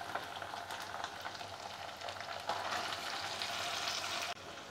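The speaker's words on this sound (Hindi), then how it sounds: "गैस का फ्लेम मीडियम हाई करके हम 2 से 3 मिनट पहले चिकन को खोल के भूनेंगे" Chicken frying in a pan with ginger and garlic over a medium-high gas flame gives a steady, fairly quiet sizzle that gets a little stronger midway, with no talking.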